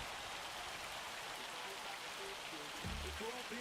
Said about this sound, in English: Oh, there's the hail again.